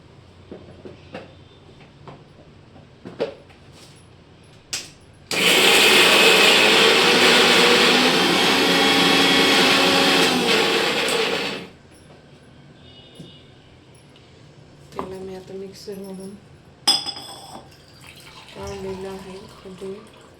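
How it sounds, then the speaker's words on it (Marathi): A kitchen mixer grinder blends chicken with curry leaves and coriander, a loud, steady whirring roar lasting about six seconds, with quieter talk and small kitchen clatter before and after it. "ही एका पायाची कोंबडी आपण याला मस्त छान असं मिक्सरमधून काढून घेऊयात"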